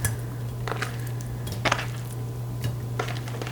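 Cubed beef stew meat, about a pound, is dropped into a slow cooker liner pan, giving a few soft, wet thumps and light clinks spaced out over a steady low kitchen hum, with no talk.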